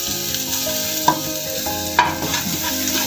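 About a tablespoon of garlic sizzles loudly in hot oil in a pan for Chinese rice, broken by two sharp clanks of a spoon or utensil against the pan and continuous close stirring, with no voices.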